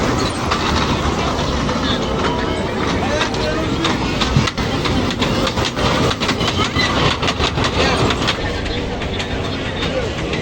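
Fair ride shaped as a dragon train rolling along its track at a trade fair, a steady loud rumble with rhythmic clatter throughout, crowd noise underneath.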